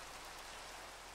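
Rain in the Minecraft video game hisses as a faint, even wash of drops, steady and uninterrupted throughout.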